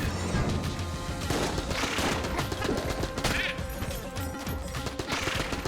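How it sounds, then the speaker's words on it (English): Dense, rapid gunshots from the Enter the Gungeon game, crackling continuously with impact crashes layered over game music, loud and unbroken throughout. "What kind of shots were those?"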